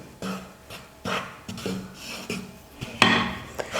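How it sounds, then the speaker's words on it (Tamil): Wheat flour being stirred into melted ghee in a pan over a low flame for sweet halwa: a spoon scrapes and knocks against the pan in uneven strokes, close and fairly loud, with no voices. "சலிச்சு எடுத்து வச்சிருக்கிறேன் கோதுமை மாவை சேர்த்துக்கிறேன். ஸ்டவ்வை வந்து லோ ஃப்ளேமில் வச்சுக்கிட்டு நம்ம நல்லா கலந்து கொடுத்துக்கணும்"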